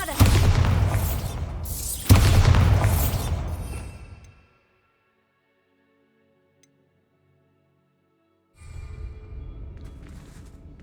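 A Bombarda spell explosion in Hogwarts Legacy, two heavy booming bursts about two seconds apart that fade into near silence before a new rumble rises at the end.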